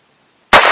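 One sharp, loud crack from a Heritage revolver firing .22lr Federal Punch ammunition bursts close by after a short silence, then fades quickly.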